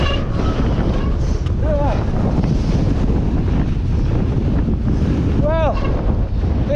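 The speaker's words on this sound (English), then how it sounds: "I'm leaning into the wind, leaning into it, and there's, oh, it's blowing me massively off course" Strong wind buffets the microphone during an eBike ride: a loud, constant roaring rush filling the whole clip, with a voice briefly heard beneath it.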